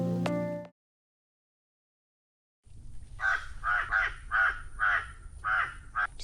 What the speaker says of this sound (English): Just gonna wait for this crow to chill.